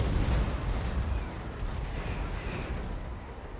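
Cannons boom in a Total War: Warhammer 2 siege battle, a dense, continuous rumble of heavy artillery fire and explosions filling the whole stretch, loud and close with no voices.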